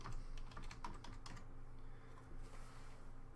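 Steady clatter of keys on a computer keyboard, a quick run of close, crisp taps that bunch up early and then thin out over a faint background hum.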